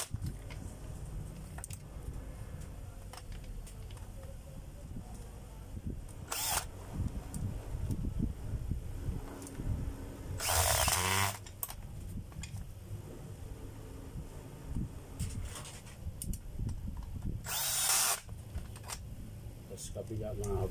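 A power drill drives a screw into a knob switch in short whirring bursts separated by pauses, with a few sharp clicks and handling noise in between.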